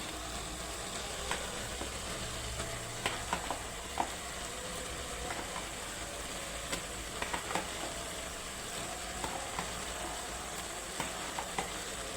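Chicken fries in a pan with a steady, moderate sizzle throughout, broken by occasional light clicks and scrapes of stirring.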